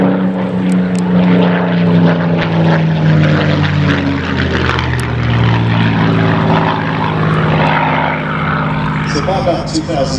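Steady, loud drone of a Spitfire's piston engine and propeller at an air show display at Duxford, holding constant for about ten seconds, with faint voices in the background.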